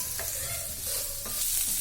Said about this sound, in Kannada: ಚೆನ್ನಾಗಿ ಕೆಂಪಾಗೋವರೆಗೂ ಅದನ್ನು ಹುರ್ಕೊಳ್ಳಿ